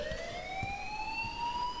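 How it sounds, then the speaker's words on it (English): School alarm from Life Is Strange, a steady electronic tone slowly rising in pitch, moderately loud and continuous, with faint soft thumps underneath and no talking. "please turn off that alarm"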